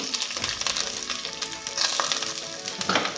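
Onion and curry leaves fry in coconut oil in a pan for a Mangalore-style green mussel dish, a steady close sizzle with occasional crackles and pops throughout.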